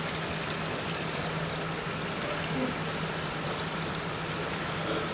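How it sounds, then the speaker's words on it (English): Water poured into a stock pot over chicken pieces, a steady continuous splashing and trickling stream at even loudness throughout, close by with no talk. "Now with the water, you want it just covering the chicken. So in goes your water."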